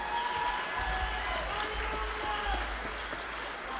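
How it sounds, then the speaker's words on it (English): A crowd applauds the Ross Trio at the Project Hope Strut For The Cure 2019 event, a steady, diffuse wash of clapping with faint voices murmuring beneath it. "Give another big round of applause for the Ross Trio."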